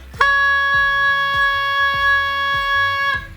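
A goose call blown as one clear, steady note held for about three seconds, loud and close, with no wavering in pitch.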